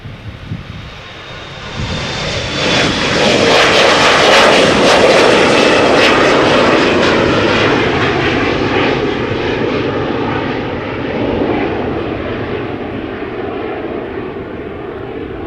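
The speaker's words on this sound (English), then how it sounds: "Next up, Embraer 175, going to Bristol. KLM flight 1079, PHEXT, 6 years old" KLM Embraer 175 jet taking off from Schiphol's Polderbaan runway, engine roar swelling loud and close with a rising whine, peaking and then slowly easing as it climbs away, no voices.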